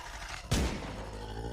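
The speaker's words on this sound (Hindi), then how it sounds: "उसने एक बार फिर से अपनी गन उठाई और उसी गन से कुछ गोलियां डॉक्टर की तरफ दाग दी" A single sharp gunshot rings out as a sound effect in a Hindi werewolf horror audiobook, a loud close crack with a brief decaying tail over a low background hum.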